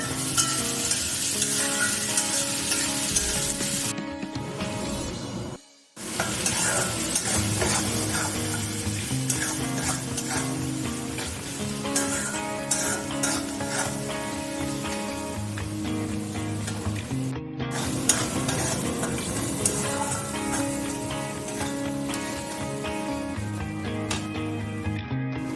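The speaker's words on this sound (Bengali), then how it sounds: "এগুলোকে এখন ভালো করে ভেজে নেব নেড়ে চেড়ে।" Green chilies sizzle and crackle as they are stir-fried in a pan for Bele fish jhura, with a steady frying hiss under background music and a brief pause midway.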